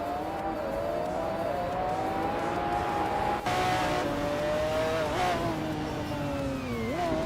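Race cars launching from the start of a race in the 1990s supercar class, led by a 1995 McLaren F1 LM: a continuous loud engine drone with a rising, wavering pitch as the cars accelerate, close and steady, no talking.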